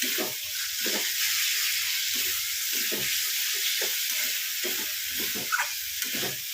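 Chickpea masala sautés in a pan, giving a continuous hissing sizzle broken by repeated soft scraping strokes of a spoon at a fairly even rhythm, close and moderately loud.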